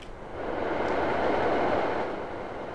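A train passing in Farming Simulator 19, heard as a steady, moderate rumbling roar that swells in the middle and eases off slightly, with no voices over it.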